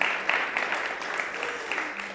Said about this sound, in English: I think you also get an applause.